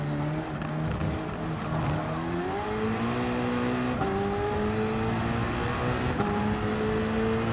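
Race car engines in Gran Turismo 7 at full speed on a lap, droning loud and steady, with the pitch climbing through gear changes and several cars heard together.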